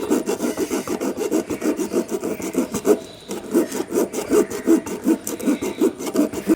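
A heated blade saws through a rubber tyre being cut to make a plant pot, a steady back-and-forth rasping scrape repeating in quick strokes, close and loud, with a brief pause midway.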